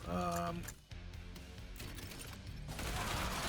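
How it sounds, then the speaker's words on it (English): Assault rifle fire in a zombie survivors shooter game, a dense, continuous fusillade of rapid shots that fills the whole stretch, loud and close alongside game music and effects. "I trust the assault rifle."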